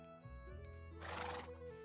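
A horse in a singleplayer video game gives a loud whinnying neigh, set against steady game background tones and a brief clip-clop of hooves, with no talk.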